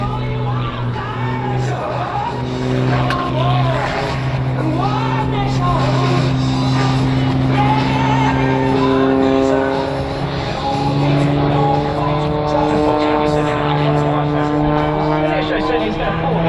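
A Wolf Pitts Pro aerobatic propeller biplane flying a display at the Australian International Airshow, its engine droning continuously and loud with rising and falling pitch as it rolls and spins, over a commentator's talk.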